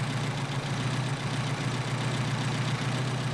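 A Mercedes 190SL engine with Solex 44PHH carburetors idles steadily, a low, even rumble with a faint rhythmic pulse, close and continuous with no talking.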